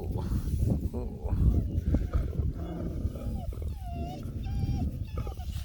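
Several dogs in a multi-dog household, one of them grouchy and growling, with low rumbling growls, whimpers and whiny vocal tones that rise and fall close by throughout, alongside a person talking softly.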